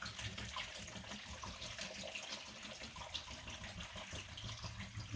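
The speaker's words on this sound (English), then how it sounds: "last but not least, I add my water. So I got a jug of water here." Water poured from a jug over the top of bones in a pot for bone broth, a steady splashing gush running unbroken for several seconds at close range, with no talking.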